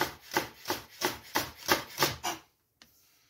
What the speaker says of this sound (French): on va émincer nos deux poireaux